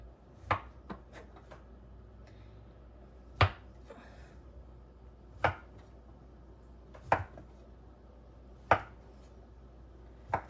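A knife chops through soft morning bun dough on a board in a home kitchen, giving about eight sharp, separate cuts spaced a second or two apart over faint room noise.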